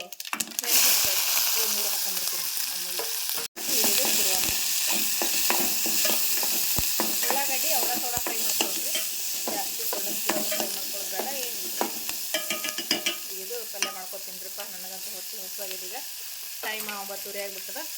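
Onion, curry leaves and tomato frying in hot oil with cumin and mustard seeds on a gas stove, a continuous loud sizzle and crackle with spoon stirring, under faint background voices.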